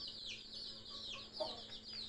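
Baby chicks peep constantly in high, rapid overlapping chirps, faint and steady, kept in an enclosure with a hen, with a low hum beneath.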